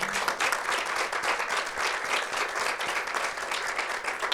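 An audience at a talk breaks into sustained, dense clapping that stays even and fairly loud throughout, with a few voices mixed faintly underneath.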